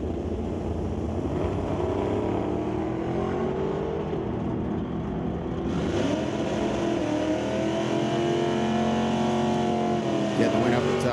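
A 1962 Chevy II drag race car's engine roars steadily and loudly at a drag strip, the pitch rising and shifting partway through, with a voice mixed in underneath.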